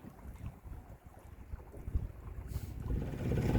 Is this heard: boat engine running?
yes